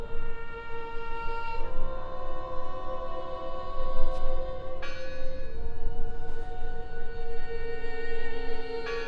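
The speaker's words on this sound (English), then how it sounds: "I heard the bell." Church bell ringing in the video game Draugen, sustained resonant tolls with long humming overtones, a new strike arriving every few seconds, moderately loud over a low ambient rumble.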